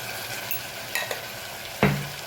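Red chili powder and coriander-cumin spices sizzle softly in a pan for dal makhani while a spoon stirs them, with a few light scrapes and a sharper clink near the end over a low, steady fry.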